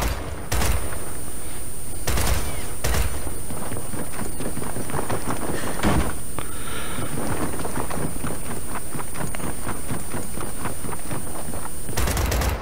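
Gunfire in the Gears of War 4 Horde mode on the Fuel Depot map, rapid sustained bursts of shots with a few louder blasts standing out, dense and continuous over a steady game soundscape.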